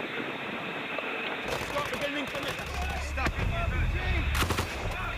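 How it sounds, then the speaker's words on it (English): Heavy machine guns of the Welsh Cavalry in combat in Afghanistan, sustained bursts of rapid gunfire with sharp cracks and booms over a constant roar, fairly distant and dense, with shouted voices mixed in. "The Welsh Cavalry's heavy machine guns are in full flow."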